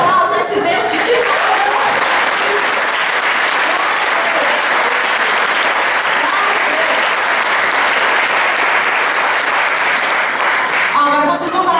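Applause from a church congregation fills the space, loud and steady for about ten seconds, with a few voices breaking through near the start and end.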